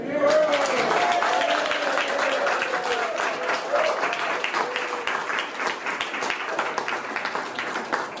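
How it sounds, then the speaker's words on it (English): Sustained, dense applause from an audience at a retirement celebration, loud and steady throughout, with some voices mixed into the clapping. "I'd like to give Melinda a great round of applause."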